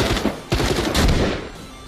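Rapid gunfire bursts in The Walking Dead: Saints and Sinners VR game, loud and dense across the clip with a clear break before a second volley.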